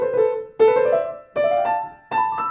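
A short piano passage from Burgmüller's Op. 100 No. 2 "L'Arabesque", played with the hand pushing the fingers down: four heavy, clustered note groups separated by brief gaps, each struck with a thick, muddy attack that decays quickly.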